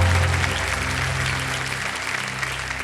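Dense, steady applause from a studio audience on the Kaun Banega Crorepati game show, welcoming an elderly woman contestant; loud, close clapping that fills the whole stretch without pause and thins only slightly toward the end.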